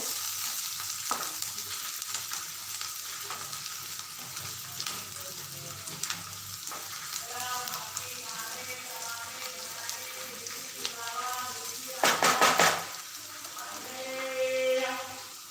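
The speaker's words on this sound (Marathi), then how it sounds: "हा बघा आपला कांदा व्यवस्थित गुलाबी असा झालेला आहे" Onions frying in a pan until pink, a continuous sizzle with intermittent spatula stirring and a burst of louder scraping near the end.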